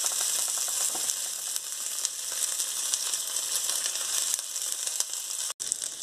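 A piece of butter melts in a hot frying pan where eggs and shrimp are cooking, giving a bright, constant hiss and crackle, close and loud, with a brief drop-out near the end.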